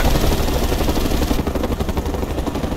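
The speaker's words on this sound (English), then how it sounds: "Enemy helicopter spotted!" An enemy helicopter in the video game Mercenaries 2 makes a dense, steady roar of rotor and engine noise that fills the clip without pause, and no voices are heard.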